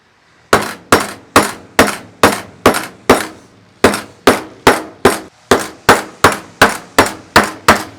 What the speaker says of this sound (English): We're gonna take a mallet.